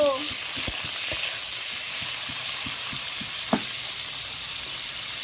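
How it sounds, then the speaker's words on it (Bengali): Prawns coated in salt and turmeric fry in hot oil for a prawn and jackfruit dish. A steady sizzle runs throughout, with a few light clinks and knocks from stirring near the start and one sharper knock partway through. "এবারে লবণ হলুদ মাখানো চিংড়ি মাছটা দিয়ে দিচ্ছি দিয়ে ভেজে নেব"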